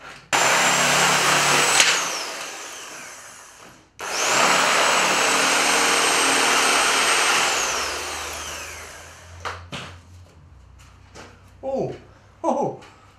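Power tool cutting through pallet wood during fence building outdoors, two loud sustained whining cuts with a short break between, followed by scattered knocks and brief handling sounds; no talking.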